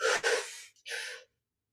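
During yoga practice, a person nearby takes two quick audible breaths in through the nose, a sharp first sip and a slightly longer second one, followed by silence.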